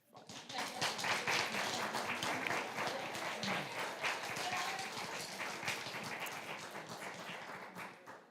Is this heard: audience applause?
yes